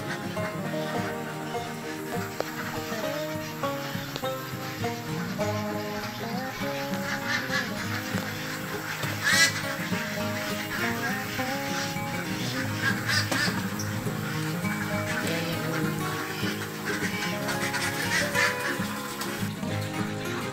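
Ducks on a farm quack and call while drinking from a water trough, a continuous mix of overlapping bird calls with faint splashing and background noise throughout.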